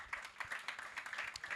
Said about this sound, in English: I would like for the audience to give a round of applause to our panelists